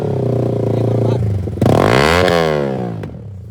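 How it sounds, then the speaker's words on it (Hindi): Motorcycle fitted with a new loud aftermarket exhaust revving hard close by, a steady rumbling idle giving way to a sharp rising roar that peaks and falls back, with brief clatter. "लगवा लिया भाई बाइक में एग्जॉस्ट।"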